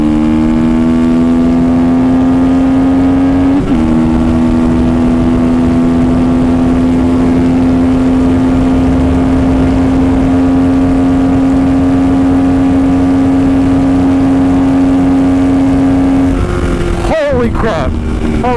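A motorcycle engine drones hard and loud at a high steady pitch while accelerating along a frontage road, close up, with a brief shift partway through and wind-buffeted bumps near the end.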